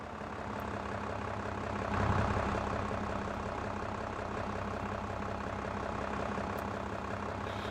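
A tractor engine idles steadily in a realistic farm simulator game, a dense, even low rumble that swells slightly around two seconds in, heard alone without talk.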